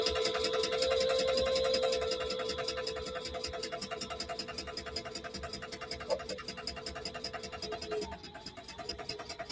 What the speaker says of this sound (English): No, it's my sewing machine